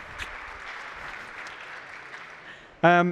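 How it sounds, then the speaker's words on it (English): A short round of audience applause at a developer conference talk, moderate and steady throughout, cut off near the end by a loud voice speaking. "quick round of applause"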